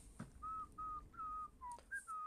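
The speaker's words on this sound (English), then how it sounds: "I love that little whistle." A Star Wars strategy game plays a soft little whistle, a series of short, clear melodic tones in a light rising and falling pattern, quiet and alone.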